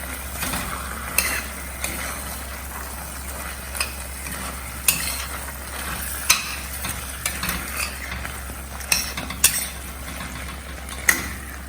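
Paneer cubes and spices being stirred in a hot pan, a steady soft sizzle with intermittent scraping and clinks of a spoon against the metal, close and alone.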